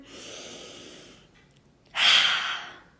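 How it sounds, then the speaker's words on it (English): A slow inhaled breath, then a pause and a louder, breathy exhale close to the microphone, with no speech. "One more deep breath in."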